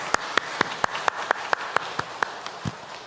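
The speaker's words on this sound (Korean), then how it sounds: "박수로 그에게 감사의 마음을 전하겠습니다" A church congregation at a Sunday worship service gives applause, heard as a run of evenly spaced, crisp claps at a steady quick rhythm, fairly close and moderately loud, with no talk over them.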